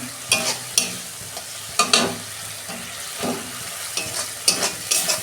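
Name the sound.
stirring and sautéing tomato, onion and spices for fish curry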